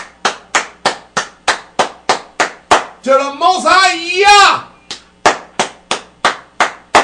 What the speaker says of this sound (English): get to clap my hands